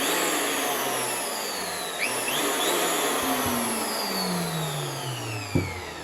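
A Bosch PL1632 electric wood planer running freely without cutting, a steady whirring motor whine with falling tonal sweeps and a brief knock near the end, close and fairly loud.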